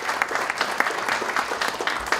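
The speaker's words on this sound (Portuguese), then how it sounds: "Muito bem, parabéns, uma salva de palmas." Audience applause at an economics awards ceremony in Minas Gerais, a dense steady clapping from a room of people, close and even throughout the short stretch, no speech.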